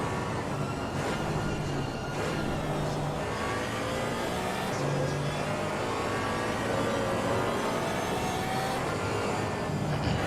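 A race car laps the Suzuka circuit in a GT4 racing video game, its engine droning continuously at moderate volume, rising and falling in pitch through gear changes and throttle shifts.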